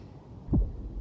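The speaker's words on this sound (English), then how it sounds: "Finan's heartbeat." Heartbeat sound effect from the video game Honkai Star Rail: a single deep, soft thump swells and fades against a quiet low rumble, with no voices.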